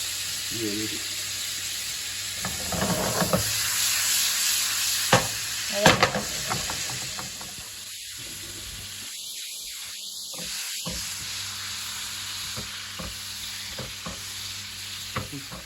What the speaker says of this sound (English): Same skillet, medium heat. Melt the butter.